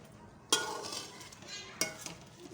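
Chicken and fried onions stirred together in a pan, two sharp clinks of a utensil against metal, each followed by a soft scraping sizzle, close and quiet, without speech.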